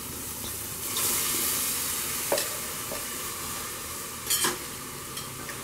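Onion and ground masala fry in a pan with a steady, loud sizzle, while a spoon stirs and scrapes a few times on the bottom of the pan.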